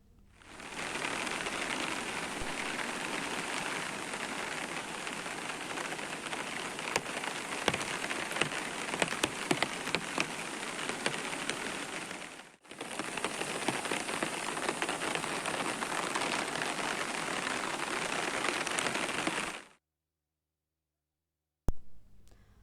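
Steady, loud rain pours down in Komaram Bheem Asifabad district, near a washed-out temporary bridge, a dense continuous hiss with two brief breaks, no voices.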